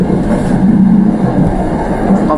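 KA Jayakarta passenger train running on rails, a loud, steady rumble heard from on board, dense and continuous with no clear individual clacks and no talk.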